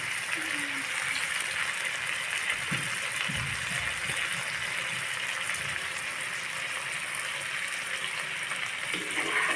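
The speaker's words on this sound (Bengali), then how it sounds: "এই মশলাটা আর একটু ভালোভাবে কষিয়ে নেব" Masala spices frying in oil in a pan for a puti fish curry, a steady close sizzle and hiss running throughout with a few faint stirring knocks.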